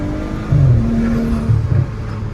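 A BMW with short eight-speed gearing accelerates up close, its engine note rising, dropping briefly at each quick gear shift, then climbing again, loud and steady, with no talking.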